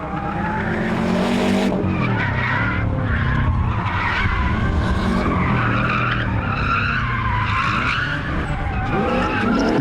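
A Subaru drifting at a demonstration event, with a loud, continuous tire squeal and screeching skid over a roaring engine for the whole stretch and no talking.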